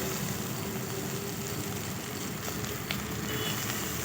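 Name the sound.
okra and onion sautéing in a pan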